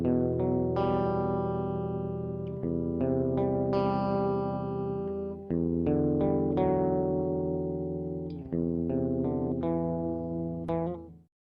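Peaceful soundtrack song from the Block Story video game: a calm synth melody of sustained, echoing tones with distinct note changes every second or two, playing alone and fading out at the end.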